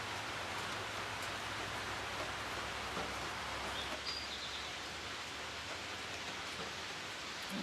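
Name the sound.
rain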